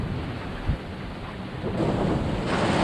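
Broadband thunderstorm noise with rain and gusting wind over a sailboat in Panama, swelling louder toward the end, plus a brief low rumble near the start; no voices.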